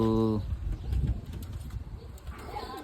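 Soft pigeon cooing comes from nearby after a brief voice at the start, with murmuring and rustling throughout and another short voice near the end.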